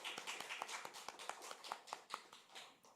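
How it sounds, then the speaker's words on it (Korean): A church congregation claps for the teachers, a quiet and somewhat distant patter of many hands at a brisk uneven pace that fades slightly toward the end. "우리 선생님들을 위해서 우리 격려의 박수로 또 하나님 앞에 감사의 박수를 함께 하겠습니다."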